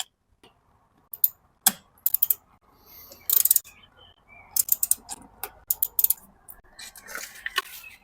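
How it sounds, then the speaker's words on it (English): Screws tightened on a transducer mount for a boat stern, giving crisp close metallic clicks and ratcheting ticks in uneven bursts, with no talk. "I will then tighten those screws a bit."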